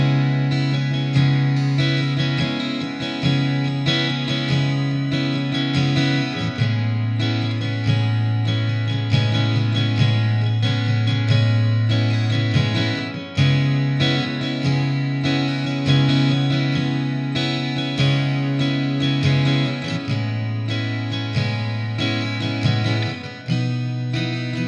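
Taylor Custom Grand Pacific walnut guitar played through effects, with sustained distorted, chorus-tinged tones. Notes ring out steadily at close range, shifting pitch every few seconds with no talking.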